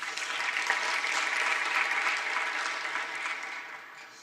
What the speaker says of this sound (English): I think that's a fascinating story and deserves a second round of applause.